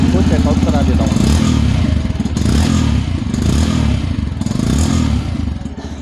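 A Yamaha FZ-S Fi Version 3.0 motorcycle engine runs close and loud, with a steady, throbbing low rumble and a mechanical clatter that continues throughout.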